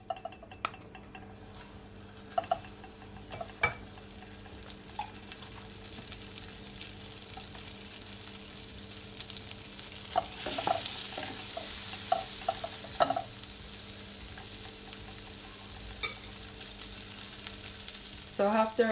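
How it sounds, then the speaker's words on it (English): Butter melting and sizzling in a pot for fried apple pie: a soft, steady frying hiss that swells gradually, with scattered clinks of a utensil against the pot. "adding at least 2 spoons of butter to my pot. I'm just gonna allow it to melt"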